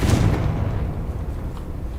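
A Confringo fire spell explodes in Hogwarts Legacy, a dense, loud booming blast with a rumbling low end that rolls on steadily for the whole moment, with no talking over it.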